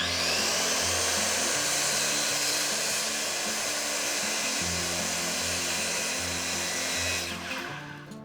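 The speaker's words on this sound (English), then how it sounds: "Use your circular saw." Circular saw cutting through flooring, a loud continuous high-pitched whine with steady motor hum for about seven seconds, then winding down at the end.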